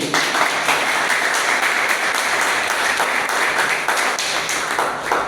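A church congregation at a Sunday service claps together, dense and steady applause filling the room for several seconds without a break.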